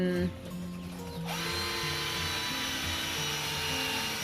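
Power drill boring holes through thick parts for a homemade quail cage, a steady loud whine with a sharp rise in pitch after a short start, running continuously up close.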